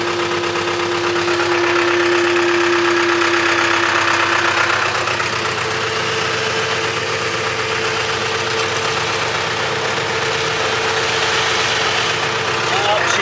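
Engine of a vehicle stuck in a corn field, throttled gently while the wheels spin, a steady loud drone with a held tone partway through, rising and falling slightly.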